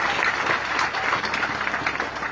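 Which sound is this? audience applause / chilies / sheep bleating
audience applause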